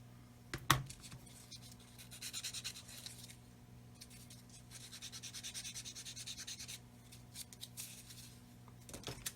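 A plastic nib is trimmed off a 1/35 scale Hobby Boss Land Rover Defender model kit part. Faint, close cutting with a sharp snip near the start, then soft scraping and rubbing, and another light click at the end.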